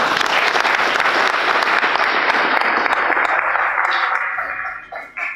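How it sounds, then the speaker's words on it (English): Audience applause at a speech event at the Pan African Congress in Kenya, a loud, dense crowd clapping that holds steady, then thins and tapers into scattered claps near the end. "Can we clap for them?"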